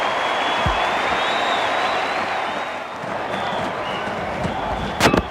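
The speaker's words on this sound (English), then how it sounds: "Crowd roaring" Large cricket crowd at the Melbourne Cricket Ground roars and applauds in a sustained, dense wash of noise, steady then swelling, with a sharp burst near the end.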